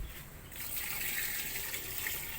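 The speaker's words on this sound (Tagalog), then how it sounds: "Lalagyan na natin tong tubig na nilagay natin kanina." Water is poured into a pan of sautéed pork; after a brief quieter moment, a steady gushing splash starts and continues evenly to the end, with no talking.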